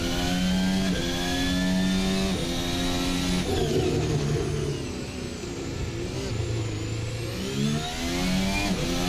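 A Red Bull RB20 Formula 1 car in Assetto Corsa screams at full throttle in second gear, its high engine note climbing through gear changes and rising again, loud and continuous with no talking.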